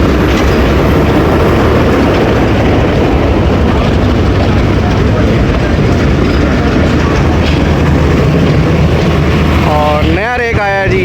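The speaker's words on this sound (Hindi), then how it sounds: "8301 है जी PHA सीरीज़ का नया पहला लोकोमोटिव" A PHA series locomotive, number 8301, arrives at a railway junction with a loud, continuous rumble and rolling clatter close by, and a horn-like tone sounds near the end.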